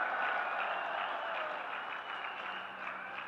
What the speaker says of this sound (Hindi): मेरे नौजवानों, ताली बजाइए, आपका काम हो रहा है।